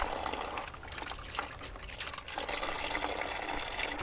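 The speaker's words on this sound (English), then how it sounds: "I'm gonna go wash my hand off quick" Water gushes steadily from a tap as a hand is rinsed under it, a continuous broadband splashing that stays loud and close for the whole stretch with no talk.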